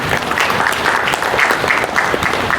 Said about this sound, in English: So another round of applause to you.